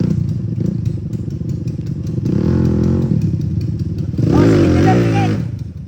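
A motorcycle on a dirt trail revs in bursts, its engine note rising and falling with some clatter, close and loud, while people shout and talk over it.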